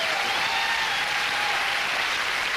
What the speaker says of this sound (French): Ah, je pensais que vous applaudiriez.